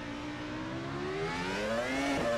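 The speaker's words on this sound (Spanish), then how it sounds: "Tengo que poner un poquito más alto luego el coche, porque a todos los fórmulas les pasa que el sonido es más flojo que los turismos." An open-wheel formula car engine in the rFactor 2 racing game at Spa rises steadily in pitch as it accelerates, a continuous whining drone with gear-change dips near the end, heard alone.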